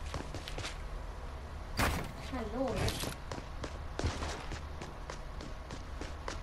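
Footsteps in a game of hide and seek: several soft steps and a sliding door-like thump, heard quietly under a person talking, with a few louder bumps partway through.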